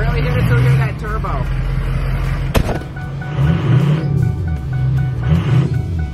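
A 2003 Ford 6.0 Powerstroke diesel truck drives with a steady low engine drone, a brief sharp knock partway through, and someone talking over it.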